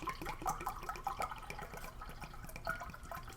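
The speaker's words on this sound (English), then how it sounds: "As I spill water all over the backdrop or base or whatever you want to call it." Water spilled over a backdrop base during a Swedish 24-hour dry ration meal, a close run of splashes, trickles and drips in short irregular bursts that settle into a softer patter.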